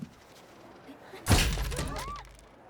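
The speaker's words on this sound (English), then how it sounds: "maybe don't stab into the very expensive table" A knife stabs into an expensive table in Yakuza 4 Remastered, one sharp wooden thunk with a brief cracking impact, fairly loud against a quiet background.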